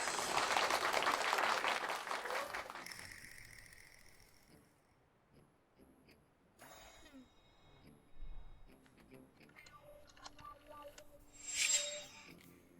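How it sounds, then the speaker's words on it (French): A burst of applause and clapping fills the opening seconds, loud and dense, then fades out, leaving quieter mechanical clicks and scattered sounds later. "Applaudis."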